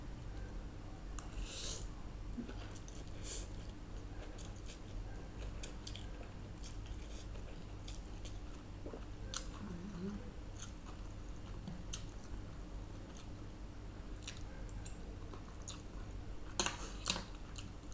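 Someone eats a spicy Thai instant noodle salad with pork sausage and fresh shrimp up close, soft repeated wet chewing and biting with occasional louder crunchy bites, quiet and intimate without talking.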